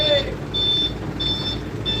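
Vehicle reversing beeps repeat steadily while a car backs onto the Tigaras ferry at the Lake Toba port, with a constant engine rumble and a voice talking over it.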